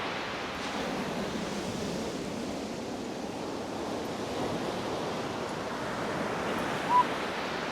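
Ocean surf on an Outer Banks beach: a steady, broad rush of waves washing in for several seconds, fairly loud and continuous, with some wind in the background and no voices.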